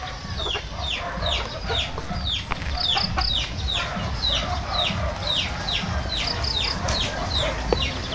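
Chickens recently released from a factory into an outdoor yard in Antipolo cluck and call repeatedly, with a rooster crowing now and then, steady and fairly close over a rustling background.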